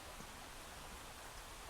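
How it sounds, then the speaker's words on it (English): Heavy rain falling steadily on open, wet moorland with no wind or thunder, a soft even wash of drops that stays faint and unbroken. "It's heavy-ish rain, no lightning, thunder, no serious wind, but a lot of water."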